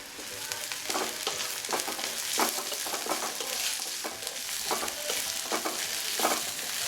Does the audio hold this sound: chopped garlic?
yes